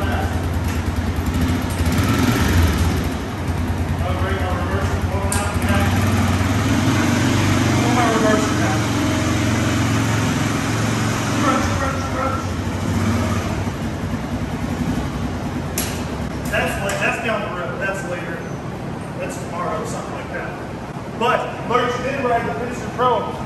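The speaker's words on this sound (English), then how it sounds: "Generator works perfectly." Raven MVP 7100 generator running steadily close by, a constant engine drone under people talking throughout.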